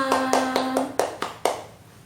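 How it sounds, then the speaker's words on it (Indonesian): Classroom applause, about seven distinct, evenly spaced claps from a small group of children with a teacher, close by and fading after the last clap. "Tepuk tangan untuk kita semua."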